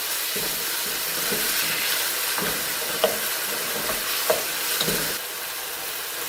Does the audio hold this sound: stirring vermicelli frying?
yes